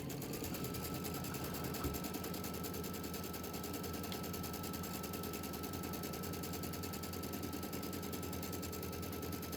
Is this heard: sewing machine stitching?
yes